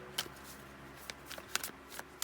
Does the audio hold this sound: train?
no